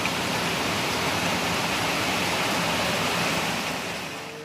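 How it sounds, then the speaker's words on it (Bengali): Stormy wind and heavy rain roar steadily outdoors on a road trip toward Wayanad, forming a dense, continuous wash of noise that fades slightly at the end. "এরকম ঝড় হাওয়া, যদিও বললো কোনো সমস্যা নেই।"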